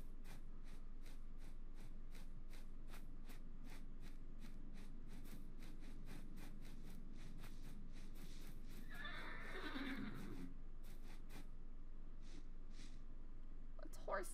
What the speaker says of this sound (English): It's horsey.